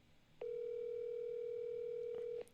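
A telephone signals an incoming call with a single steady electronic tone lasting about two seconds, clear but moderately quiet against a faint background.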